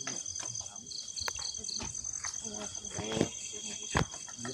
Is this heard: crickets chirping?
yes